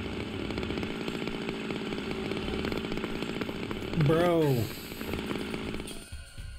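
Chainsaw running in the game Zero Time Dilemma, a steady loud engine drone throughout with a brief revving surge near the end, under a short spoken word.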